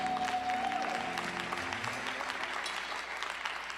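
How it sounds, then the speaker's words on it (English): An audience at a Saturday morning community forum applauds, a dense, continuous clapping that holds steady and fades slightly at the end, with no speech over it. "Let's give him a round of applause"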